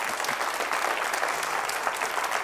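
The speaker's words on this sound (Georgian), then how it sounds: "ტაში მათ." A studio audience applauds at a television broadcast, steady clapping that holds evenly throughout at moderate loudness.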